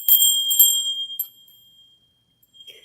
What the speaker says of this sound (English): I have this little Tibetan bell